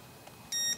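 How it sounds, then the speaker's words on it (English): A Precision Sensors ProFinder 7000+ stud finder gives a single short, bright electronic calibration beep after a near-silent moment, close and clear. "you have to hold it until it beeps"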